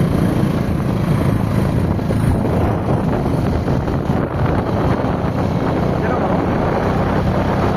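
Strong wind buffets the microphone outdoors in the Kolli Hills, a constant loud roaring rumble for the whole stretch with brief voices mixed into the noise.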